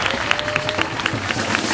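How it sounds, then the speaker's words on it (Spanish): Audience at a cupcake competition final applauding loudly as third place is announced, dense continuous clapping with crowd murmur and a faint voice underneath. "Un aplauso muy fuerte"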